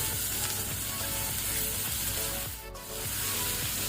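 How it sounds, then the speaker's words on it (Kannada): Two tomatoes added to frying onions in a pan on medium-high flame for chicken masala, giving a loud, continuous close sizzle with scraping stirs and a brief dip near the end. "ಈಗ ನಾವು 2 ಟೊಮೆಟೊ ಹಾಕೋಣ."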